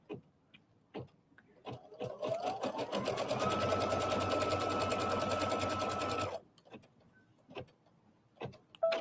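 An embroidery machine stitches a quilt block held in its hoop, whirring in a rapid, even rhythm for about four seconds up close, with small handling clicks and taps before and after.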